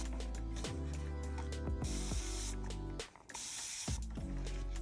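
Several short spray bursts of water from a spray bottle onto a water slide decal and tumbler cup, bright hissing mists, with a steady musical backdrop and a brief pause near the end.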